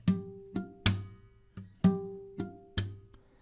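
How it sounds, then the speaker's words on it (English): Slaps on the strings of a fingerstyle guitar, six or seven sharp percussive hits in an uneven rhythm, each leaving a short ringing bass note, played close and alone. "After that we make slap."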